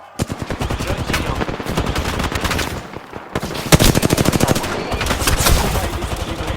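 Bursts of rapid automatic gunfire in the video game Apex Legends, loud and close, two long strings of shots split by a brief pause, with some game noise between them.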